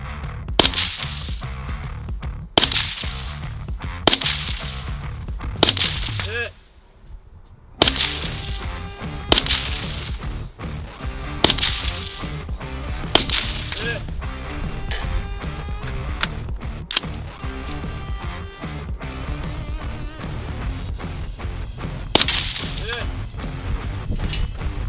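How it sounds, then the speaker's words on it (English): Sharp rifle gunshots at a long-range shooting match, a dozen or so loud cracks spaced a second or two apart with echoing tails, one longer quiet gap midway. "I'm literally just taking pop shots,"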